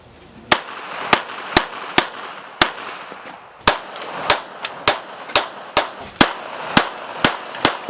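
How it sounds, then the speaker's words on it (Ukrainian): Sharp gunshots ring out at an outdoor military shooting competition with assault rifles and pistols, about fourteen loud single reports at irregular intervals of roughly half a second to a second, each with a short echoing tail. "Сьогодні були змагання з відкосної стрільби, прицільної стрільби з автомата і пістолета."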